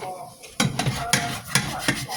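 Metal spatula scraping stuck-on bits of Parmesan, garlic and seasonings from a cooking pan, a run of close, gritty strokes in uneven rhythm, each scrape loud and alone with no voices.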